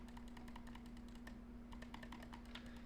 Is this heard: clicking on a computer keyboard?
yes